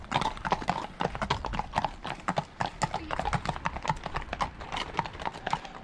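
Horses walking on a paved road with overshoes on their hooves, a steady overlapping clip-clop of several animals passing close by, with a brief whinny and some voices in the background.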